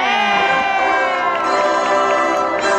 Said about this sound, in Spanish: Aplauso fuerte,